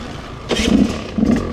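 Electric starter cranking a Rieju MR 300 motorcycle engine, a short whirring burst followed by a second brief crank, close and fairly loud with no speech.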